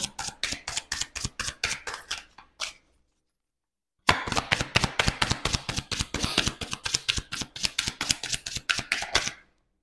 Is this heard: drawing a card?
yes